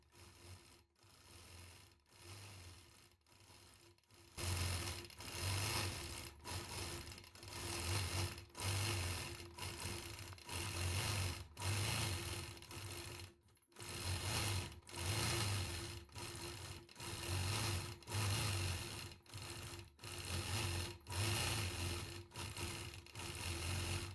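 A sewing machine stitches a free-motion quilted feather design, its motor running in long steady bursts with brief pauses between passes, a continuous close whirring rhythm with no talk over it.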